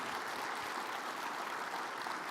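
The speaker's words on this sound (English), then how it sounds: "Everyone, give Neil a round of applause." Audience applause at a live stock trading stream, an even, dense wash of clapping held steady throughout, faint and distant.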